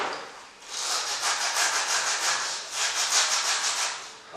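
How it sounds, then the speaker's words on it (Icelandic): Rhythmic hand-sanding strokes scrape sandpaper across the bottom edge of a linoleum piece, close and gritty, pausing briefly before resuming in a steady back-and-forth rasp with no speech. "taka þetta sandpapír og slípa neðri brúnina"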